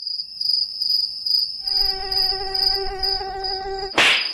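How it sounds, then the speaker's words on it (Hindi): A cartoon mosquito's thin, high-pitched whine drones on steadily and loudly, growing richer partway through, then ends in a sudden sharp burst like a slap. "ससुर मच्छर काट गया।"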